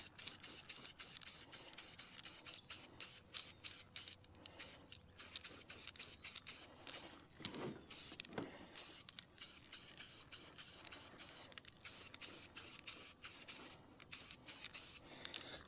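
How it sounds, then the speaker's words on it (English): Primer paint sprayed from an aerosol can onto a bus roof being repaired, short rhythmic hissing bursts repeating steadily, close and fairly loud, with a longer continuous spray midway and no talking. "Bit of primer."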